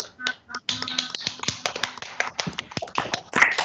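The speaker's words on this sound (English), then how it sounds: "Please clap for Anwar." A small group of children in a Grade 3 classroom clap for a classmate. The claps are sharp, scattered and uneven, starting with a few isolated hits and then thickening into quick, irregular patters.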